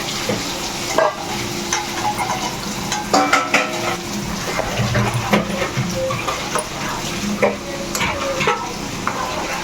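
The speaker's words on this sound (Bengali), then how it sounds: "মাছের তেলের চচ্চড়ি হচ্ছে" Fish-oil chorchori cooking in a home pan in a Bengali kitchen: a continuous close sizzle and frying hiss with scraping stirs and light clinks of a utensil against the pan, with no voices.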